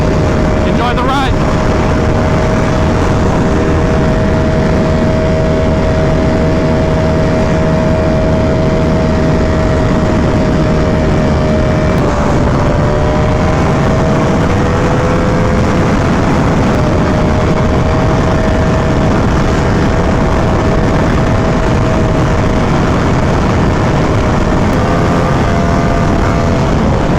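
A Ducati Panigale V4R motorcycle rides along, its loud, steady engine drone holding a constant pitch with slight shifts partway through and a continuous rush of wind noise.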